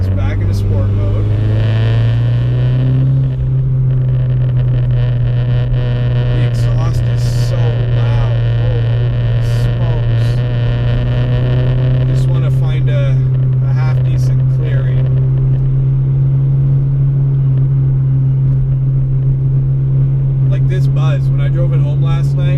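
A car engine in sport mode drones steadily from inside the cabin, with a constant low hum that rises slightly in pitch early on, while a person talks over it throughout.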